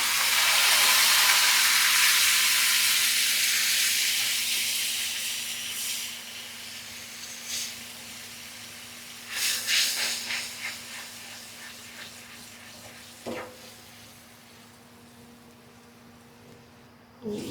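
Lentils (dal) dropped into a hot pan hiss and sizzle loudly at first, the broadband frying noise slowly easing, with a few sharper spits and crackles around the middle and a steady low hum underneath.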